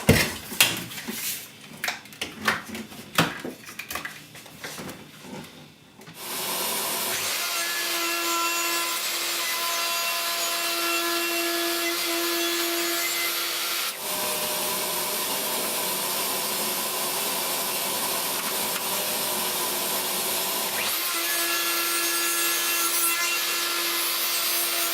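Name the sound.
router bit cutting rebates in wooden pieces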